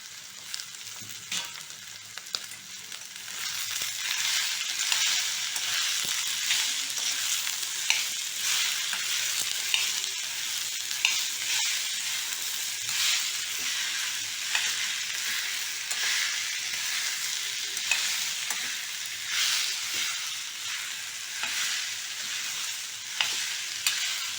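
Peas for a samosa filling frying in a pan, with a constant bright sizzle and a crackle running underneath it, stirred now and then, filling the whole stretch with no pauses.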